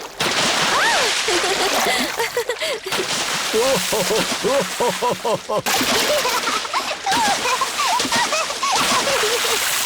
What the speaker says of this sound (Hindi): अब और कितना छिड़कोगी?